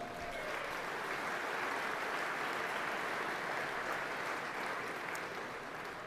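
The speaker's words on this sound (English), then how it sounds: "A big round of applause for all the team at Hireland" An awards-ceremony audience applauds the Hireland team, steady, full clapping from a large crowd that carries on for several seconds, with faint voices under it.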